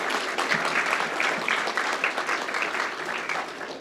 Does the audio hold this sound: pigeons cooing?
no